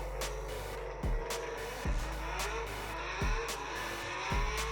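A demo race car makes a timed run, its engine droning steadily at high revs with repeated sharp gear shifts every second or so, heard from onboard and fairly loud without any voices.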